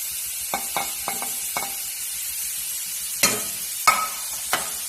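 Carrot, green chilli and ginger sizzling in a pan as a spoon stirs, with a steady hiss of frying broken by a handful of sharp clinks and scrapes, close and without voices.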